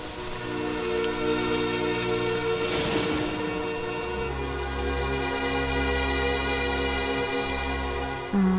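Steady rain falls outside a home, a continuous even hiss that lasts throughout, layered with sustained background music and no speech.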